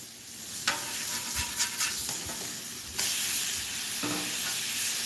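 A hamburger patty browns in a pan with a steady, close hiss and sizzle of frying fat, occasionally shifted or stirred; no voices.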